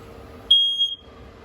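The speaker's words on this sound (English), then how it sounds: "Right up top here, you got your smoke detector." A single sharp, high-pitched electronic beep from a smoke detector in a 2021 Wildwood 24RLXL RV, about half a second long, loud against a quiet background.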